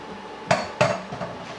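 A utensil strikes and scrapes against a bowl while lemon tart crust mixture is cleared out, two sharp clinks followed by softer scrapes, close and with no talking.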